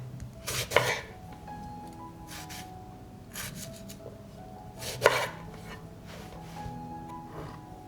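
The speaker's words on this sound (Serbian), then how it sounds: "Iseći ću paradajz na krupnije komade." A knife cuts tomatoes into large chunks for a sauce. Two distinct chops land several seconds apart, with soft scraping and board noises in between, fairly quiet and close.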